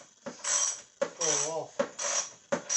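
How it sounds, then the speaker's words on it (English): A ratchet turning over the wheel bolts gives short metallic clicking bursts in quick succession, three or four separate spells of ratcheting close by with a brief voice-like tone in between. "I'm using a ratchet this time because the shifters tend to"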